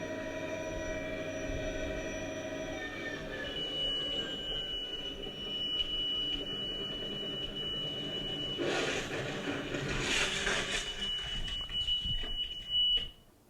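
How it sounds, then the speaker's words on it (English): An in-flight aircraft alarm plays as a faint, steady high electronic tone with broken beeping pulses over a low cabin drone, ending in a brief burst of clatter. "so if we have an alarm in flight"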